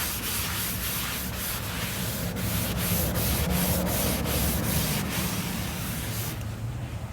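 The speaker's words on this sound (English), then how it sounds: "Go ahead and wipe this side back." A cloth rubbing and wiping stain across the wood and veneer of a mid-century modern dresser, a steady close scrubbing hiss with rhythmic strokes, ending abruptly.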